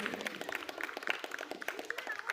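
An audience at an Adivasi Day celebration claps to welcome a guest, a fairly faint patter of scattered hand claps with a voice speaking over them.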